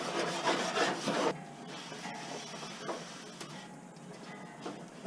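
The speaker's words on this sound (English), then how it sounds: "So put the grate back in." A metal grate is set back into a smoker grill, giving a short burst of rough scraping and rubbing followed by quieter light clinks and shuffling handling noises, close up with no talk.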